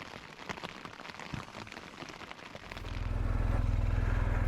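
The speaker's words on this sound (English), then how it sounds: "Listen to that rain, it's still raining." Rain patters steadily on a tent at a Shetland campsite, a dense close hiss that swells into a louder, deeper rush near the end.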